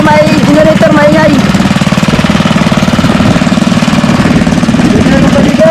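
A loud engine drones steadily with a rapid, rhythmic knocking pulse, like a generator running close by for the whole stretch.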